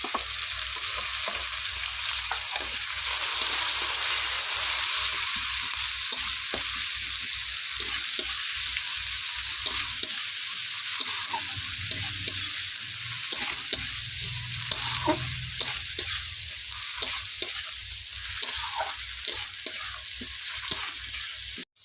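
Nigella seeds, onion and tomato fry in oil for a fish curry, giving a steady loud sizzle with repeated stirring scrapes in a pan, no voices over it.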